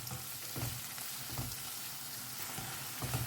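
Tomatoes for a prawn masala fry softly in a pan, giving a quiet, even sizzle with a few soft stirring scrapes recurring at intervals.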